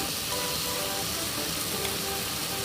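Curry leaves crackle and sizzle in hot oil for a Salem-style chicken kulambu, a loud, dense, continuous frying hiss close up with no voices.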